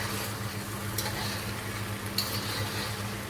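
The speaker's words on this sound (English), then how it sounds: "when you can see the oil sizzling" Spicy marinated chicken fries in hot oil, giving a steady close crackling sizzle with a few sharper pops and no talking.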